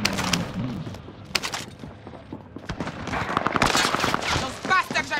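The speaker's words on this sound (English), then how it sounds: "Those bastards are shooting at me." Bursts of gunfire in Call of Duty Modern Warfare, sharp cracks and rapid volleys coming in uneven clusters at varying distances, with battlefield noise and game effects around them.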